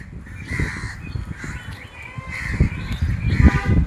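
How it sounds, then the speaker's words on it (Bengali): Crows perched in banyan trees by a riverbank in a West Bengal village caw repeatedly, several harsh calls in uneven succession, fairly close over a quiet outdoor background. "এখন শুধু কাক বসে আছে।"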